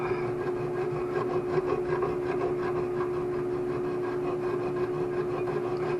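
A handsaw cuts steadily through a wooden violin part clamped in a swivel-jaw instrument vise, making a continuous close rasping, rubbing stroke sound with an even rhythm and no pauses.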